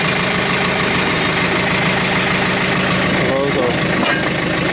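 Diesel engine of a 110 TLB tractor idling with a constant loud, rough drone throughout, close by, while someone talks over it.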